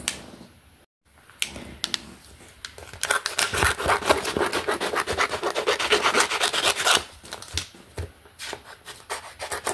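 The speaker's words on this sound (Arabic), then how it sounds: "نستعمل المسطرة لتفريغ البطاقة من الهواء" A ruler is pressed and rubbed across a laminated number card to push out trapped air, making rough, rhythmic scraping strokes that swell and fade, close and fairly loud, with short pauses between passes.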